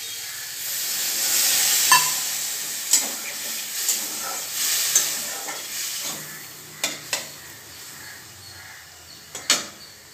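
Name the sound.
stirring cumin and chilli in pan, adding water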